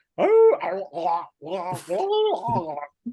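A person's voice imitates the howl of a dog wounded in the neck, giving long wavering vocal wails in two or three close, loud bursts.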